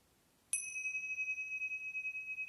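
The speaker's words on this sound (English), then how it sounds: "we'll start and end our practice with a bell" A single meditation bell is struck once, ringing out clearly with a bright ding and a long sustained, gently pulsing tone that lingers in a quiet room.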